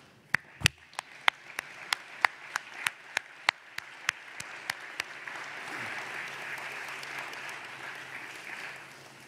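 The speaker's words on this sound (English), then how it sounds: "give your parents a round of applause" At a graduation ceremony, a string of sharp, evenly spaced single claps gives way to broad, sustained audience applause for the parents that swells and holds at a steady level.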